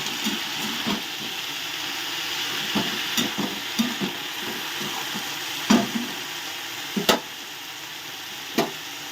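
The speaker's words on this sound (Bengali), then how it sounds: "একটু নেড়ে দিচ্ছি যাতে শাকটাকে মরে যাবে" Jute leaves (pat shak) being stirred as they wilt in a hot pan, a soft steady sizzle with repeated scraping, clinking strokes of the spatula at irregular intervals, no voices.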